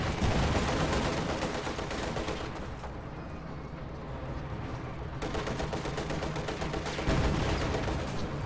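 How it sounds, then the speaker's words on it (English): Battle in a real-time strategy game with a T-34 tank firing on Panzer Grenadiers, dense overlapping gunfire and booming shots, loud and continuous with a brief lull in the middle, no talking. "T-34 taking shots at the Panzer Grenadiers right there will force them to retreat."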